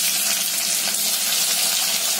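Chopped onion hitting hot oil already tempered with cumin seeds, giving a bright, continuous hiss and crackle of frying that stays steady and close, with no voices over it.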